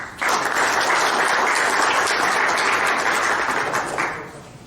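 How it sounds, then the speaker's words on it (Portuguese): Conference audience at a Portuguese-speaking countries' forum gives a round of applause saluting the national flag: dense, loud, sustained clapping from many hands that swells quickly and fades out near the end. "Saudemos o pavilhão nacional com uma salva de palmas."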